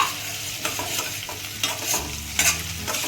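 Green chillies and moong dal fry in a pan with onions over medium heat, a steady sizzle broken by several scraping stirs of a spoon, with no voices.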